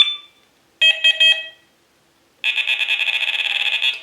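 An electronic carp fishing bite alarm sounds a short steady tone, then three quick beeps, then a longer stream of rapid beeps after a pause. All of it is loud and close, with no talking.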